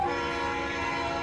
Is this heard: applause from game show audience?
no